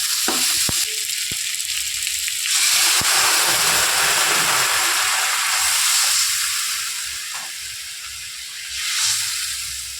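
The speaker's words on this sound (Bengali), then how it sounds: "গরম জলটা দিয়ে দেবো।" Loud sizzling and hissing bursts out as hot water hits a pan of frying curry, then settles into a steady simmering fizz that swells again near the end.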